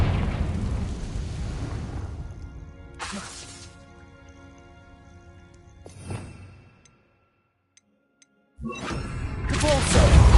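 A Confringo spell explodes in Hogwarts Legacy with a loud fiery burst that rumbles and fades, then a second blast sounds midway. After a near-silent pause a heavy roar surges back at the close.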